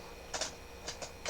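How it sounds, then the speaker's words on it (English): A house cat scratches at a door, giving several short, soft scraping bursts in an irregular rhythm with quiet gaps between them, faint and close, with no talking. "that's just my cat trying to come into my door if you hear that"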